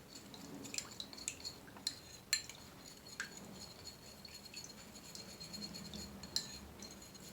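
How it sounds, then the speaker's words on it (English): Ginger snack ingredients are mixed together in a bowl, giving soft, irregular scrapes and light clicks of utensil on dish, faint and close, with no talking. "I'm going to mix that together."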